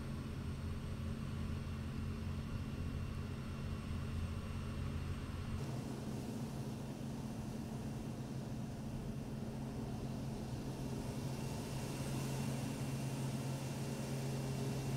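The engine of a PC-6 Porter in Microsoft Flight Simulator hums in a steady, fairly faint low drone with a light airy hiss over it, unchanging throughout.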